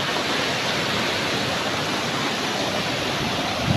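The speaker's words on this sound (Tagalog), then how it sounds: "Wala nang harang dito kaya ang tubig dito dire-diretso." Floodwater rushes unchecked past an old bridge further wrecked by a typhoon, its barriers gone, making a loud, unbroken, close roar with no pauses.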